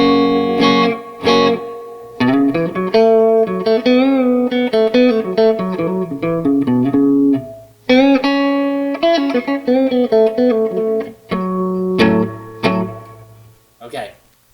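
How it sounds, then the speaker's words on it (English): A Les Paul electric guitar with both pickups split runs through a Fender-style clean amp with reverb, playing chords and single-note melodic phrases with clear sustained notes and pauses, alone and without talk. "I'm playing my Les Paul, and I have the both pickups split and the amp set up to a Fenderish clean with some reverb"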